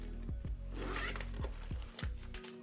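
A zipper runs along the front zip pocket of a leather agenda in several quick, rasping pulls with short pauses between them, close and clear with no talking.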